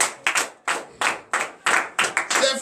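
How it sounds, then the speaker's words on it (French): A church congregation at a morning prayer service in Benin claps in unison for Jesus, about ten sharp, evenly spaced bursts of clapping in a steady rhythm, fairly close, with no voices. "donnez l'acclamation à Jésus"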